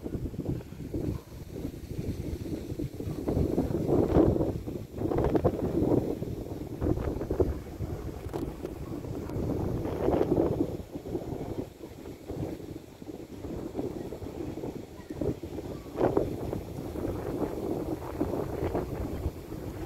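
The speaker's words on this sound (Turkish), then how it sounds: "Şu anda çok şiddetli bir rüzgar var" Very strong gusting wind buffets the microphone outdoors at an Istanbul bird market, a loud low roar that swells and dips in waves for the whole stretch, with no voices.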